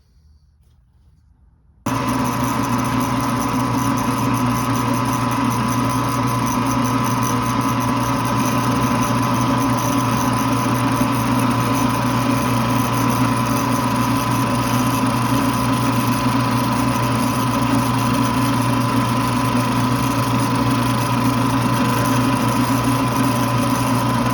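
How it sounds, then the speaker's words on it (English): A milling machine's fly cutter faces a metal workpiece on a manually fed mill, producing a loud, steady machining drone that starts abruptly after a short silence and continues without a break. "That fly cutter is doing a nice job."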